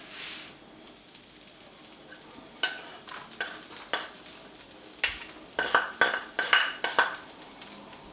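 Chopped garlic fries in butter in a pan with shrimp, a faint sizzle beneath a run of clear metallic clinks and scrapes from a utensil that grow busier toward the end.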